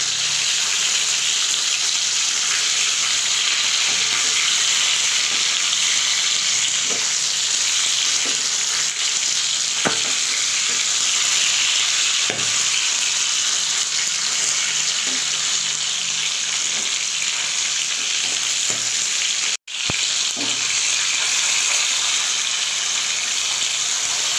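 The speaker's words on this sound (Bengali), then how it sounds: "এবার মাছগুলো ভেজে নেব উল্টে পাল্টে" Pieces of bhetki fish frying in oil in a pan, a continuous close sizzle with a few soft clicks and one brief gap, no talking.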